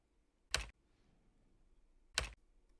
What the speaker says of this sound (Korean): 각도창에는 키보드의 숫자 패드로 0을 입력하고 탭키를 눌러 치수창으로 이동시킵니다